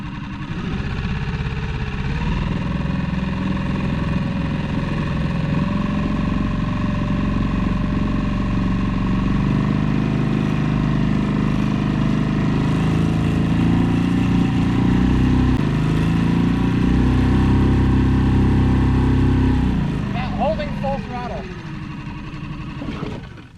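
A dinghy outboard engine idles steadily and loud throughout, a constant low hum holding over small gravel while someone talks over it, with a brief change near the end.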